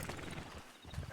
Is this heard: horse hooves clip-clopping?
yes